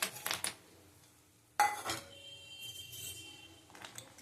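Dry soybean chunks tipped from a bowl into a pot of water on a kitchen stove, giving a short clattering pour with light clinks of dishware, a quiet stretch, then a second louder rattle of chunks hitting the pot at close range.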